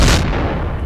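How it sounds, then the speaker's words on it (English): A grenade detonating in Counter-Strike: Source on a Nuke or Italy map, one loud close blast with a sharp onset and a rumbling tail that fades over a second. "I just grenaded myself."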